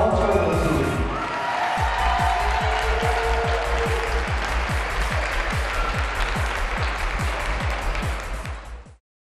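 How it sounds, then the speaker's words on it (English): An audience at a high school girls basketball tournament gives a round of applause for the all-tournament team, sustained dense clapping with some cheering, and a steady rhythmic thumping beneath that then cuts off abruptly. "Let's hear another round of applause for our all-tournament team"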